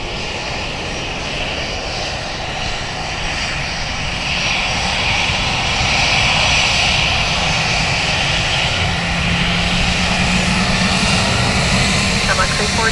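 Jet airliner on final approach and landing on runway 28 left at Dublin Airport, a steady broadband engine roar that swells slightly as it nears, with faint radio chatter in the background.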